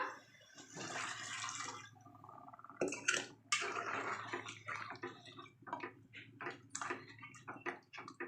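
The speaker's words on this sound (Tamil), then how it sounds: "இப்போது வேக மட்டன் வேக வச்ச தண்ணி ஊற்றிக்கலாமா" Mutton cooking water pours and splashes into a pot in a couple of bursts, with clinks of utensils and faint sloshing, close and quiet.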